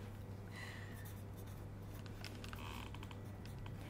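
A pen writes a measurement on paper in faint, scratchy strokes over a steady low room hum, with no talk.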